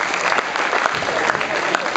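Audience applause at a school leavers' comedy show, steady dense clapping close and loud throughout with no pauses.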